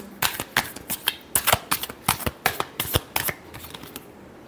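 Tarot cards being shuffled by hand, a steady run of crisp riffling snaps repeating roughly every half second, close and clear with no voice over it.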